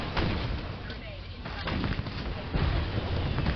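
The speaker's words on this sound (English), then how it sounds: "Getting shot at" Gunfire rattles through a video game scene in dense, continuous bursts with booming low-end rumble, close and loud, with a voice speaking briefly over it.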